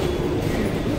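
A metro train moving along its line, with a steady, loud rumble and rattle of carriages filling the whole second without a break.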